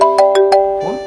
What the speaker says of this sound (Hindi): फोन, अरे डॉक्टर साहब के फोन कर रहे हैं